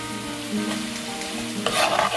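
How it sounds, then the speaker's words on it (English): Green chilies tipped into a pan of frying onions and stirred, a steady oil sizzle with spoon scrapes and a brighter burst of crackle near the end, close and alone. "the onions are ready and I'm going to put the green chilies in"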